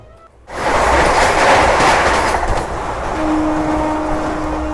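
Passenger train rolling on rails into Bilimora Junction station on the Mumbai–Ahmedabad line, a steady loud rumble and rail noise building in after a quiet half second, with a faint sustained tone joining near the end; no talk.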